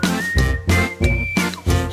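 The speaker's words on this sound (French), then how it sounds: "je sifflerai après ça" Someone whistles a simple tune in short phrases with brief pauses, close and fairly loud.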